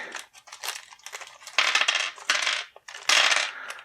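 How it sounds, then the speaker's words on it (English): Plastic dice from the Mansions of Madness board game are handled and jostled, producing bursts of close, bright clattering and rattling in several uneven clusters, with no talking. "We got a set of dice here. Take a look at those real quick."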